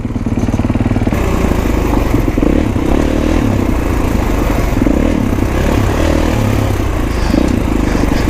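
A 2021 Kawasaki KX450X dirt bike heads onto a trail, its single-cylinder engine droning loud and close the whole time with a rough, throbbing note that rises and falls as the throttle changes.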